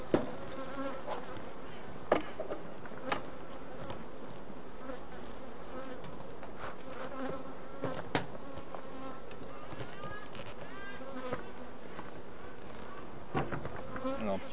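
Honey bees buzz steadily from an opened young hive colony checked for its queen, a dense close drone with scattered sharper buzzes and a few faint knocks.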